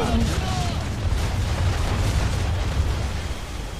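Cannon fire from a sailing warship during a naval battle in Assassin's Creed III, dense rumbling booms and blasts layered over continuous loud battle noise, with a voice shouting over it.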